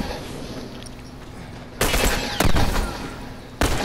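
Gunfire in the video game The Last of Us, a few sharp, loud bursts of shots over a quieter ambient background, spaced unevenly with a cluster in the middle and a final crack near the end, no talking.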